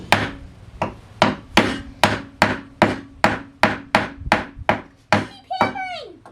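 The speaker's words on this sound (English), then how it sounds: "Keep hammering." A team of children hammer on wood in a workshop: about fourteen sharp, evenly spaced knocks, close and fairly loud, with a brief squeaky scrape near the end.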